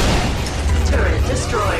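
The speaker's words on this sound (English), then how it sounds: "Turret destroyed." A turret is blown up in Ratchet & Clank: Full Frontal Assault, a dense, loud roar of booming blasts and rumble throughout, with a synthetic game voice announcing over it.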